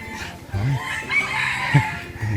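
A bantam rooster crows repeatedly in a farmyard, loud and close, with someone talking in Thai over and between the calls.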